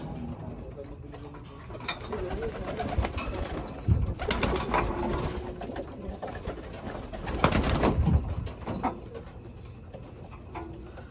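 Pigeon cooing softly in a backyard bird setup, low repeated coos under steady outdoor noise, with a couple of louder rustling bursts nearby.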